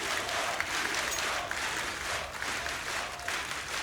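A crowd at the IEM 2015 Katowice esports tournament applauds in a dense, sustained wash of clapping. It stays loud and steady throughout with little talk.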